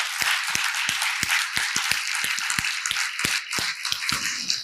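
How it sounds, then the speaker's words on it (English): Audience applause at a payments conference, a dense patter of clapping hands with sharp individual claps standing out, sustained steadily throughout without speech. "let's give these guys a great round of applause"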